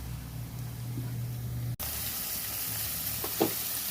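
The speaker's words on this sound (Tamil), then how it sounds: "எண்ணெயை ஊற்றிட்டு பெருஞ்சீரகத்தூள் போடுறோம்." Ground fennel powder hits hot oil in a pan for a fish curry, giving a steady crackling sizzle with brief stirring scrapes near the end and a short break partway through.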